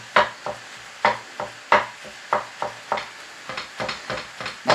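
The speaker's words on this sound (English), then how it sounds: "This is the longest part really, is just sort of trying to break up your mince as the heat gets to it." Mince being broken up in a hot pan: repeated scraping and tapping strokes at a brisk, fairly even rhythm, about two per second, with a soft sizzle underneath.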